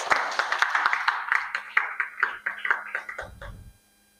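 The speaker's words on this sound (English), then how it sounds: "Please give her a round of applause." An audience claps for the head judge at a teachers' debate final, a lively run of close, crisp claps that gradually thins and dies out near the end, leaving silence.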